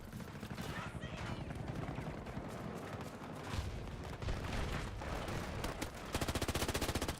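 Battlefield 3 campaign gunfire crackles in rapid bursts, with a fast machine-gun rattle near the end, all under a person talking.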